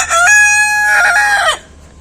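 A rooster crows once, loud and close, a single full cock-a-doodle-doo lasting over a second in a rooftop garden setting.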